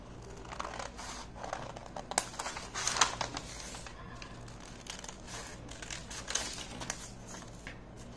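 Scissors cutting a paper blouse pattern, a series of quiet snips and paper rustles at an uneven rhythm, close by and without talk.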